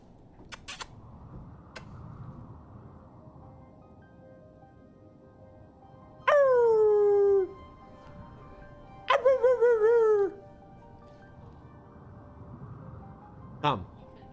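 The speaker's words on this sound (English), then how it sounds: "Oh, such a gentle dog." A dog in a modded video game gives two long, drawn-out howling whines with falling pitch, loud and close, followed by a short yelp, over a low ambient background hum.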